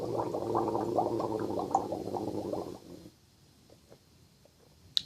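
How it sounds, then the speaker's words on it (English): A person gargling liquid, likely saline, at the back of the throat: a loud, continuous bubbling rattle for nearly three seconds, then near silence with a few faint ticks and a short sharp click at the end. "Gargling. You want to do that too. That soothes the vocal cords."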